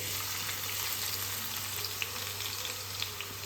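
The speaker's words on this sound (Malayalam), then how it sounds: "ഇതൊന്ന് ഫ്രൈ ചെയ്തെടുക്കാം നല്ലോണം ഗോൾഡൻ കളറാകുമ്പോൾ കോരിയെടുക്കാം" Sliced onion frying steadily in hot oil for a Vadakara-style beef biryani, a continuous close sizzle with faint crackles and no voices.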